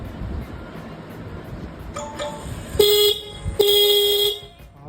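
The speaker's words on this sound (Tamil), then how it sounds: "ஹாரன் செக் பண்ணணும்." An Ola scooter's horn, sounding slightly off, gives two short honks with a slightly harsh, buzzy tone, preceded by faint clinks and low background noise.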